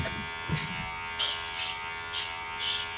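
Electric hair clippers fitted with a number 2 guard buzz steadily up close during a self haircut, with short louder bursts as they pass over the head and no talking.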